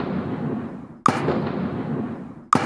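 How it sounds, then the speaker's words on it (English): A game sound effect built from a shortened explosion layered with a woodblock: two sharp, loud attacks about 1.5 seconds apart, each followed by a broad rumbling decay, with a slight stutter between the blast and the knock. "there's a bit of a stutter between the explosion and the woodblock"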